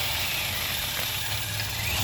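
Car engine idling roughly and stumbling as it nearly dies after spray hits a vacuum leak near the throttle body, a steady close mechanical rattle with hiss over two seconds.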